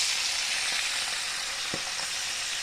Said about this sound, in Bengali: একটা মাছ আগে প্রথমে ভাজি, একটা না সবগুলোই দিয়ে দিই আস্তে আস্তে